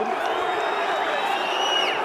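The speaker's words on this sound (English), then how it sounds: "Well, you can see the reaction of the crowd. They didn't like it." A rugby stadium crowd at a Munster v Stormers match roars its disapproval in a loud, sustained wash of voices and whistles that fills the whole moment.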